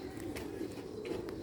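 Sialkoti pigeons give low, soft cooing against a steady background hum, a few faint chirps rising briefly over it.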